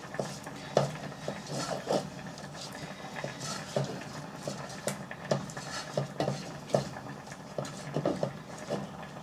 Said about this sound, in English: Mix that in, make it nice and creamy.